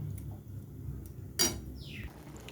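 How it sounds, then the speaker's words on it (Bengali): A lid is set on a cooking pot of tarka: one sharp metallic clank, then a short sliding scrape, over a low steady background hum. "এবার আমি ঢাকা দিয়ে দেবো"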